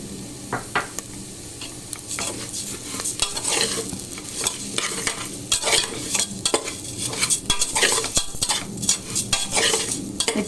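Rice and split moong dal roasting in a pan for pongal, with repeated close scraping stir strokes and utensil clatter over a steady sizzle, growing busier toward the end.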